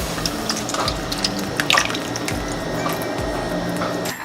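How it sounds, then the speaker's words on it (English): A steady stream of liquid egg whites pouring into a container, a continuous gurgling wash at close range with no voices. "If you guys are grabbing egg whites, you're gonna wanna pour the egg whites first."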